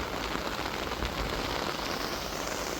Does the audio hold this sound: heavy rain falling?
yes